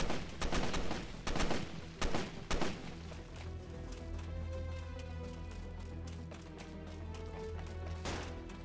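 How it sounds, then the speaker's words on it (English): Gunfire in the Roblox video game Fallen Survival: rapid bursts of sharp shots crack through the first three seconds, then a quieter stretch follows, and another shot sounds near the end. "Now he's shooting at me."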